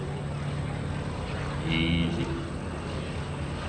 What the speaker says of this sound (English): Now watch him as he stands on the rudder to help slow the airplane down there.